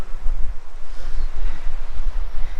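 Mountain creek flowing in Andorra, a steady, close, broadband rush of water with a low rumble, continuous and loud with no voices.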